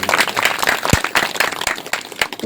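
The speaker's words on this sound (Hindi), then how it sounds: "एक बार उनके लिए जोरदार ताली बजा कर चाहिए" Scattered claps from an audience at a spoken gathering, uneven and sparse with distinct individual hand strikes rather than a full ovation.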